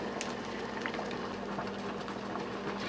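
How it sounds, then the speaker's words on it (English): Chicken simmers in a pot of boiling water, giving a steady, soft, continuous bubbling and hiss with a faint hum underneath and no voices. "so we're 8 minutes into the chicken boiling"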